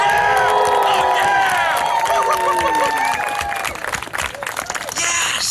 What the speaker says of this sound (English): I want to hear you cheer right now. I want Grand Rapids to hear you cheer.